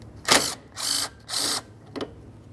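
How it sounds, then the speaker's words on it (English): A 10mm ratchet backing out a radiator hose bracket mounting bolt on a 2012-2018 Nissan Altima 2.5L four-cylinder, heard as about four short, close bursts of rapid clicking separated by brief pauses. "We'll use a 10mm to remove this mounting bolt."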